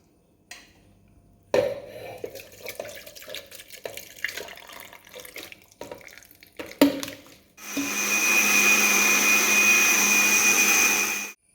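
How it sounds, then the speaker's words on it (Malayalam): A mixer grinder jar whirs loudly and steadily for about four seconds near the end, blending fruit into juice, after a stretch of clattering and handling sounds. "ഇത് നമ്മൾ മിക്സിയുടെ ജാറിനകത്തോട്ടിട്ട് ജ്യൂസാക്കി അരിച്ചെടുക്കുകയാണ്."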